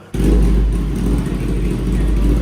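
A 2024 Kawasaki ZX-10R fitted with a race exhaust fires up and holds a loud, deep, steady rev right up close after a brief quiet start.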